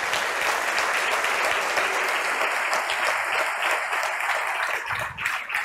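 A church congregation at an evening service bursts into loud, sustained applause, a dense wash of many hands clapping close by that holds steady throughout, dipping only slightly near the end.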